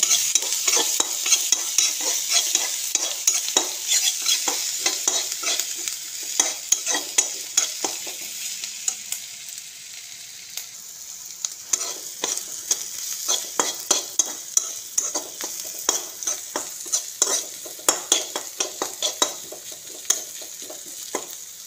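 A spoon scrapes and stirs onions frying in oil with turmeric and Kashmiri chilli powder, giving repeated sharp scraping strokes over a steady close sizzle, with no talking.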